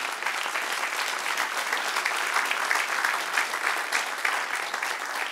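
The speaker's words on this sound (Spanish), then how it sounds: "Denle un aplauso al Señor." Congregation applauding the Lord during a church Bible doctrine class, a steady dense wash of clapping hands sustained at even loudness throughout, with no talk over it.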